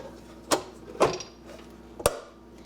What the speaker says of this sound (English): Now the pan goes into the bread machine.